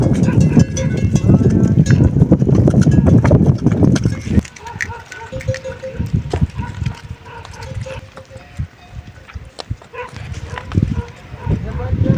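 A small dog barks in a Himalayan Nepali village, the sharp yaps mixed with heavy rustling and loud handling noise at first, then scattered barks against quieter surroundings while people talk nearby.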